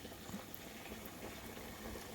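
Fish fingers fry in a basket of hot, clean oil in a deep fryer, a steady close bubbling sizzle that stays constant throughout with no voices.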